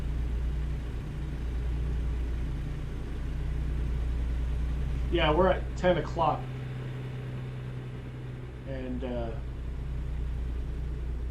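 Low, steady rumble of a heavy truck engine cruising in American Truck Simulator, a constant drone that underlies a few brief spoken words from a man partway through.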